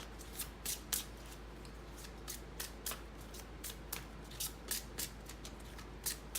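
Rapid, regular riffles and snaps of tarot cards being shuffled nearby, repeating steadily over a faint low hum, with no voices.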